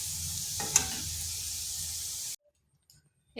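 Potatoes frying in oil in a pan give a steady, close sizzle with a brief stirring scrape, then cut off abruptly into near silence.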